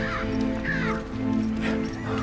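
Crow cawing in a few rough, harsh calls over steady background noise, moderately close and with no talking.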